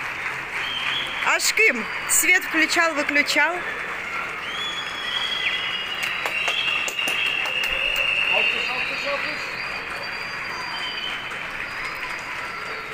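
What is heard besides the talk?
neighbours applauding medical staff from balconies in Turkey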